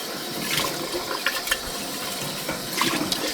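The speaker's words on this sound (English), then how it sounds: "I'll just rinse this out" Tap water runs steadily into a sink as an item is rinsed out, a continuous close splashing wash with a few brief clatters and sloshes, loud and unaccompanied by talk.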